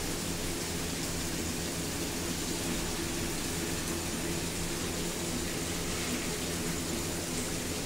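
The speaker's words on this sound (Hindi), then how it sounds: "अभी देखो कितनी तेज बारिश आ रही, बिजली कड़क रही है, और भाई साहब बहुत तेज बारिश है, बहुत तेज।" Heavy rain pours steadily at night, a dense, constant hiss with a low rumbling undertone that could be distant thunder, loud and unbroken with no voices.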